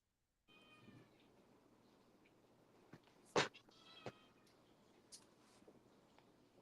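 A cat meows a few times, brief and moderately close, over a quiet room tone with faint background noise.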